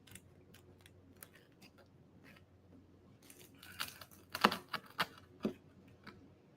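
An old, dull pizza cutter drags and crunches through a meat lover's pizza in a few short scraping strokes, quiet at first, then louder clustered crackles near the end, close up with no talk.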